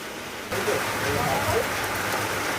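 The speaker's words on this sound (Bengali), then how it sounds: "বাইরে অনেক জোরে বৃষ্টি পড়ছে" Heavy rain pours steadily after a brief quieter moment, a loud dense hiss of drops drumming on surfaces nearby.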